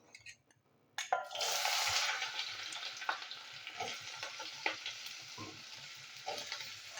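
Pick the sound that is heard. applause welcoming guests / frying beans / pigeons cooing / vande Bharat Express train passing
frying beans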